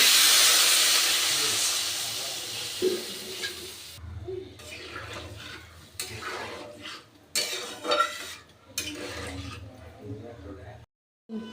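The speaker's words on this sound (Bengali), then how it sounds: "ঝোলটা আমার খুব সুন্দরভাবে ফুটছে" Fish curry broth with live snakehead fish, cauliflower and potato bubbling in a pan: a loud, close steamy hiss for the first few seconds, then fainter bubbling with pan clatter and a voice talking.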